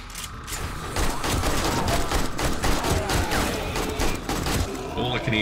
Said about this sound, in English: All I can hear is gunfire through your mic.